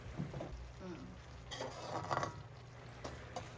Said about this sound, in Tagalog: Hinalo lang namin at hinayaang kumulo.